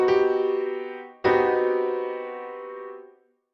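A piano sounds the Hungarian minor chord, a minor major seventh add sharp four, as two struck chords. The first one rings briefly and the second is struck again and sustains for about two seconds before fading out.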